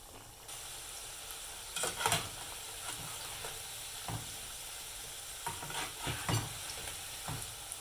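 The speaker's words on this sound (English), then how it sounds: "Cooking oil is ready, so I'm going to add my potato wedge." Potato wedges deep frying in hot oil: a steady bubbling sizzle with occasional louder crackles and spatters over a constant hiss.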